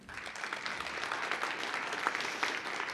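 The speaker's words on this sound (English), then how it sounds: "Round of applause for them" Moderate, continuous audience applause at a public forum for a group of news reporters seated at the back, steady throughout the short burst.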